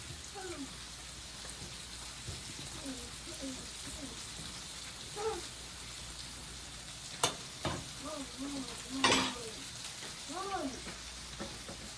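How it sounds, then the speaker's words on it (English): Flour stirred into a sizzling roux in a pan for Cajun shrimp and fish pasta, a soft steady crackle with occasional spoon scrapes and taps, fairly quiet and close with no talking. "Now I'm going to add in a heaping tablespoon of flour. Right, to create my roux."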